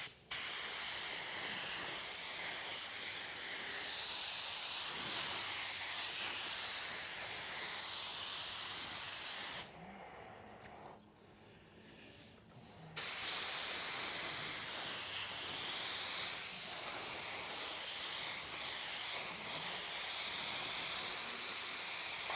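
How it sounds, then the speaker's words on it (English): A spray gun hisses loudly and steadily while spraying a base coat of metallic car paint, cutting off for a few seconds midway before the hissing resumes at full strength. "So let's go ahead and spray another coat on this."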